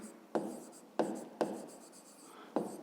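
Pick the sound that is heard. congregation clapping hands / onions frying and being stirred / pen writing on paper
pen writing on paper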